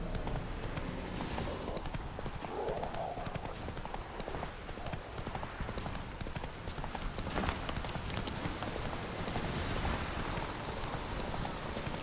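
Roach the horse's hooves clip-clopping steadily in Witcher 3, muffled under a constant wash of rain hitting the ground, with no clear talking.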